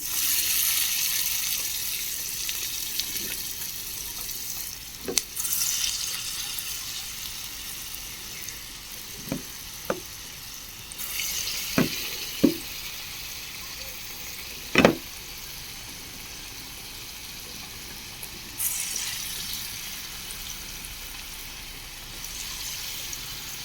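Steady sizzling of chana dal fritters deep-frying in hot oil, with a few sharp clicks and pops scattered through.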